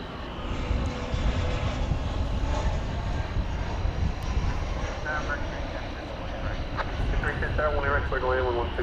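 An Airbus A321 jet airliner at DFW Airport gives off a steady, broad engine roar for the whole stretch. Talk runs over it, and the sound stays fairly distant and even.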